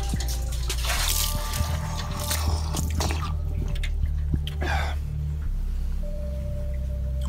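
Water from a well sweep bucket pours and splashes loudly close by, a steady wet gush with dripping and sloshing under low rumbling noise, running throughout.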